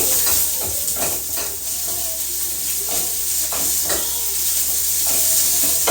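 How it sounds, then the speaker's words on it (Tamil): Coriander sautéed in a pan with onions for a thick lentil dish sizzles with a steady close hiss, broken by regular stirring scrapes. "கொஞ்சம் மல்லியில் பாதி போட்டு ரெண்டு வதக்கி"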